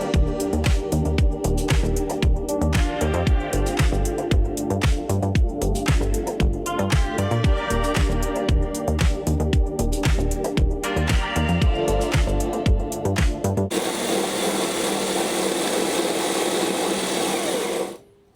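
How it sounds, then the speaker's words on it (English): A cheap no-name cordless drill runs continuously with a loud, buzzing whir that stays steady for most of the stretch, then the sound abruptly changes to a rough hiss near the end before cutting off. "The problem I'm having though is the drill isn't the best."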